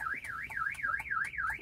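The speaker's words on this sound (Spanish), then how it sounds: "Ahí el carro está con la alarma," Chevrolet car alarm blaring close by, a loud siren sweeping up and down in a fast regular warble about four times a second, sounding alone without voices.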